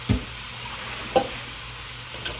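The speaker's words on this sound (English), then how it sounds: "All right, gonna stir that around" A spoon scrapes and clinks a few times through canned fresh green beans and red potatoes in a pot, with soft occasional stirring sounds over a faint bubbling simmer.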